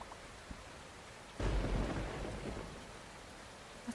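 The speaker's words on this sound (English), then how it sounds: "We're going to be caught outside in the storm." A thunderstorm with rain in the video game Voron: Raven's Story: a sudden loud crack of thunder rolls into a heavy rumble over steady rain, then fades back to a quieter patter.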